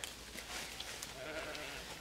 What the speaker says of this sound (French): Les moutons, c'est assez peureux comme bestiole.